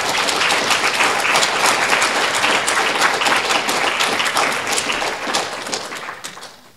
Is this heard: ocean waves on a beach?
no